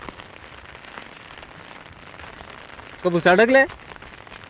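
Steady rain falls outdoors beside a river, a continuous even patter that fills the whole stretch, with a voice speaking briefly near the end.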